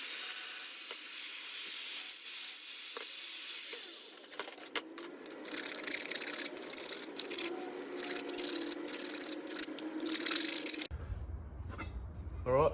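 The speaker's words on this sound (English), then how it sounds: "we'll just go down with the flat disc down till we hit that scribe line" Angle grinder with a flat disc cutting steel exhaust header tubing for a Mazda RX8 drift car build, a steady loud hiss of the disc biting into metal that breaks into choppy, uneven grinding bursts, then stops abruptly.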